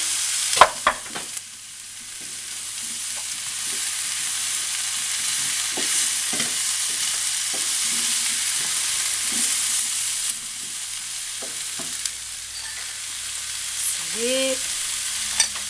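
Courgettes sizzle steadily in a hot pan, with a spatula scraping and stirring in scattered knocks and scrapes over the continuous frying hiss, close up with no talking.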